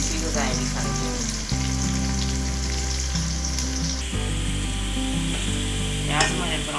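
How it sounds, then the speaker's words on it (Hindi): Onions fry to brown in a pan for chicken yakhni pulao, a loud close sizzle with repeated stirring scrapes and a low steady background hum, no voices. "प्याज हमारे ब्राउन हो चुके हैं, टमाटर ऐड कर दें।"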